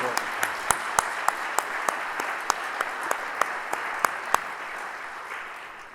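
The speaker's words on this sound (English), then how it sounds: "How about we show them a round of appreciation with a round of applause." Steady conference-hall applause from a seated audience, an even wash of many hands with a few sharper individual claps standing out, holding for several seconds and fading slightly at the end.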